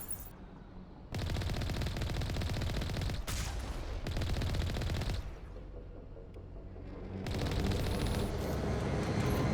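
Bursts of rapid automatic gunfire from the Mass Effect Legendary Edition game come in three long sustained volleys, separated by short quieter gaps, dense and rattling at moderate loudness.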